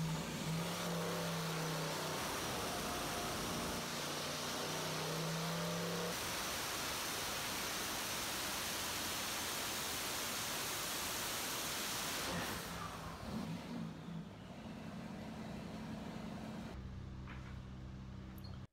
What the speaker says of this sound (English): The final test run on our 7875 turbo from VS Racing actually came on the biggest displacement, which was 440 inches